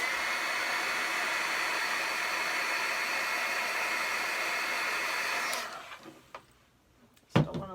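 A hair dryer blows steadily on chalk paste drying over a craft transfer, a loud close whooshing hiss that runs for about five seconds, then cuts off and winds down, followed by a few light handling clicks.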